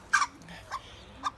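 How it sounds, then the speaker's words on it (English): Chickens cluck close by in three short, sharp calls over about a second, with a soft low murmur under them. "Chickens."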